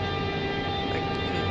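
Electric passenger train in Train Simulator 2016 powering up at full throttle on the Koblenz run, a loud steady drone with a sustained motor whine filling the cab.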